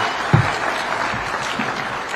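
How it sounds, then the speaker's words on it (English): An audience at an engineering partnership convention applauds after a speech, a steady patter of clapping from a crowd. "One more round of applause for His Excellency."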